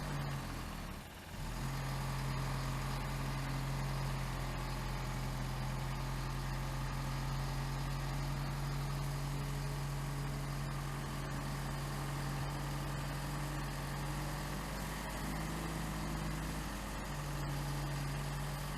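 Several heavy haul prime mover trucks idle together, hitched in push-and-pull to a bridge-moving trailer, giving a steady deep diesel drone with a low hum held throughout and a brief dip near the start.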